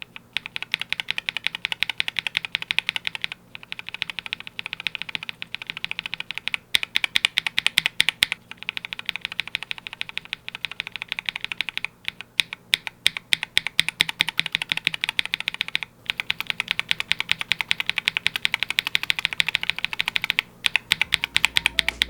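Fast, continuous typing on a budget custom mechanical keyboard with stock switches, dense clacky keystrokes with short pauses, close and clear, no voices.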